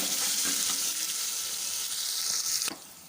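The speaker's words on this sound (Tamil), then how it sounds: "இப்போ இது எல்லாத்தையும் சேர்த்துட்டு நம்ம வந்து நல்லா மிக்ஸ் பண்ணி விட்டுக்கலாம் எல்லாமே நல்லா தாளித்து ரெடி ஆகட்டும்" Green chilli and ginger sizzle steadily in hot oil in a pan while being tempered, with a dense continuous frying hiss that drops abruptly near the end. No one speaks.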